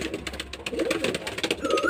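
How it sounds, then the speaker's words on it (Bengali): A white Jiriya pigeon coos in a low, continuous murmur up close, with a faint higher tone rising near the end and no talk over it. "এটা একটা সাদা জিরিয়া পায়রা"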